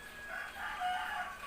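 Chickens cluck and a rooster crows at moderate distance, a steady mid-pitched farmyard clamor lasting a moment without any talking.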